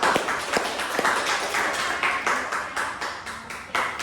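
Clapping for everyone in a classroom during a teaching-practice session, a busy spread of overlapping hand claps from a small group, loud and close with uneven rhythm, no talk over it.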